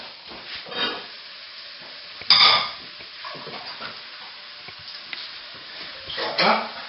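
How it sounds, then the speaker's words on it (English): Beans and tomatoes tipped into a hot pan for bean makhani, giving a soft sizzle and stirring clatter with a louder burst of frying near the start and another toward the end, steady kitchen noise throughout. "we chuck in the beans and the tomatoes"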